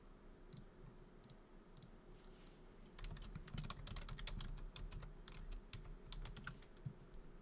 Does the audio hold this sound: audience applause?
no